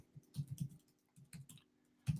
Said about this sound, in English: I'm typing it over here, 3/4 time, or triple meter.